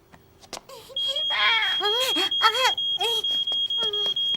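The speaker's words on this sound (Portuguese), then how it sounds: "Primeiro, vamos ouvir o alarme novamente para reconhecê-lo." A cartoon fire alarm sounds during a fire drill as a steady high electronic tone, while animated characters talk over it.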